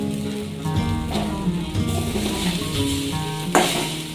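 Chow mein noodles fry in a pan with a steady, dense sizzle, stirring scrapes and clatters running through it. A brief louder scrape comes near the end, and no voice is heard.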